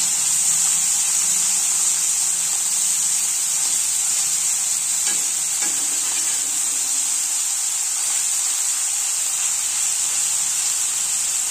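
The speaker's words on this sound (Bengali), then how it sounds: "আর এখানে বেগুন ভাজছি" Eggplant slices fry in a hot pan with a steady, close sizzle and hiss that runs throughout, with a few faint stirring scrapes and no talking.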